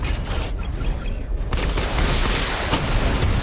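The Batmobile's barrage weapon fires in Batman Arkham Knight, a loud, dense mechanical volley of clanking, ratcheting bursts and booms that builds to a sustained roar.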